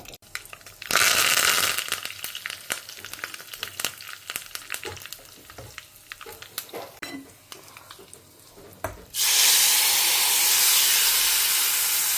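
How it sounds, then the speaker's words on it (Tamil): Urad dal tempered in hot oil for a home-cooked Tamil lunch gives a loud burst of sizzle, then quieter spoon scraping and clinks against the pan, and finally a strong steady hiss. "அதுக்குள்ளே நான் கொஞ்சமாக எண்ணெய் குத்தி உளுத்தம்பருப்பு தாளித்து கொட்டிடலாம் நமக்கு."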